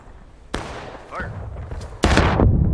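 Musket volleys in the video game War of Rights: one sharp crack, then a louder ragged volley of many shots, with a voice talking in between and a booming roll after the final burst.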